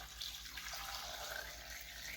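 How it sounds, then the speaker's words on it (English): Plain tap water runs steadily from a kitchen faucet into a pot for chicken noodle soup, a close, continuous rushing splash with no voices. "you're just basically gonna fill that pot with plain old tap water"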